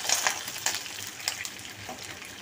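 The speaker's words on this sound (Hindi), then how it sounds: "तेल गर्म हो चुका है, इसमें हम ये 200 ग्राम प्याज शामिल कर देंगे।" Finely chopped onions, about 200 grams, frying in hot oil for a mung-masoor dal, giving a steady close sizzle with a few brief stirring scrapes, no voices.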